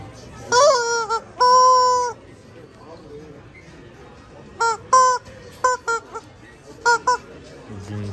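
A squeezed novelty fish toy lets out a series of loud, nasal duck-like honks, first two longer squawks, then several short quick squeaks in clusters, heard close by with a little background murmur in a shop.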